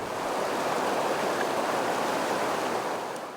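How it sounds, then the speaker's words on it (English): Crystal Creek flows through a ranch with a steady, even rush of running water, a broadband hiss that holds at moderate level throughout with no voices. "Right through the ranch flows the aptly named Crystal Creek."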